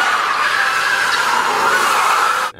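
Formula E electric race car whizzing past at a race, a steady loud whining rush that builds and then cuts off abruptly at the end, no talking.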